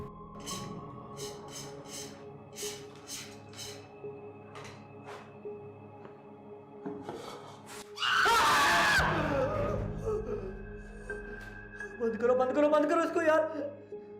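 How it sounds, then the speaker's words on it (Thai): A sudden loud, harsh scream bursts out after a stretch of quieter sounds, followed by further agitated crying voices. "ก็ได้มีเสียงกรีดร้องดังขึ้น"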